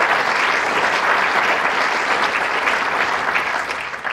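An audience at a county address applauds a congressman, producing dense, even clapping that holds steady and loud for several seconds with no talk over it.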